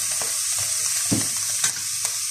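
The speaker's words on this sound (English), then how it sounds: "we're just going to let those flavours just sear at the bottom of the pan for the moment before we start stirring it up" Already-cooked pork with ginger and garlic searing in a hot pan for Korean-style pork noodles, giving a steady close sizzle with a few soft clatters and scrapes, and no talking.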